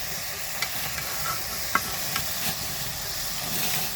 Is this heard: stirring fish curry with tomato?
yes